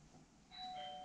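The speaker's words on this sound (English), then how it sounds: "Ding dong. Bell just rang." A household doorbell chimes with clear, ringing two-note tones that linger after each strike, quiet and slightly distant over faint room noise, with no one talking.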